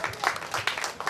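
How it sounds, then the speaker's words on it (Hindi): An audience claps for the chief guest, Mohit Kumar, at a ceremony: a short, dense burst of many hands with uneven bursts throughout. "जोरदार तालियां आप लोग उनके लिए बजाइएगा।"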